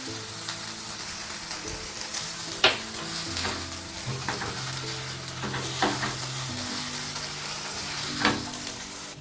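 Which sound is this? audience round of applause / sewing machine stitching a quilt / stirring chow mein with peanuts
stirring chow mein with peanuts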